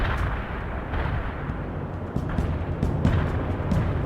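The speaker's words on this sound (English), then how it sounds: "Zulu 9 are firing mortars at the target coordinates." Mortar fire in the World in Conflict game: a continuous barrage of dull booms and blasts, loud and rumbling, with bursts that stack on one another across the clip.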